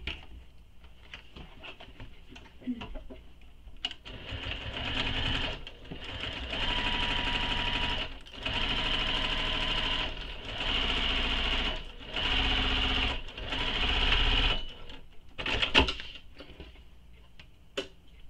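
A sewing machine stitches a backpack seam in several bursts of rapid, even whirring, each lasting a couple of seconds and separated by short pauses with light clicks.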